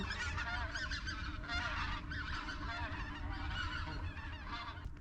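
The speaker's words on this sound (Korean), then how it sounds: "새들이 왜 이렇게 시끄러워" A large flock of geese honks noisily over a rice field beside a marsh in the morning, a dense, continuous chorus of overlapping calls with no talk.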